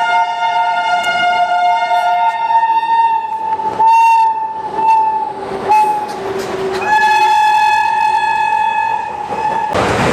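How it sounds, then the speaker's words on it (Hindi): A fast train rushes past while its horn sounds in several long loud blasts with short gaps, over a continuous rumble of wheels and cars, very close and alone. "बहुत तेजी से आ रही है ये ट्रेन।"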